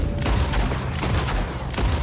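Heavy gunfire in Red Dead Redemption 2 hammers out as a string of loud, closely spaced shots with booming low rumble, several sharp cracks standing out over about two seconds.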